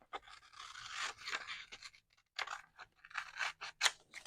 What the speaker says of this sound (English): if you don't want to sit here and use your scissors